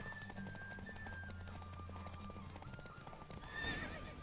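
Steady rhythmic hoofbeats of a galloping horse in a race in The Witcher 3 on PS4, over a low droning background, ending in a loud, close neigh.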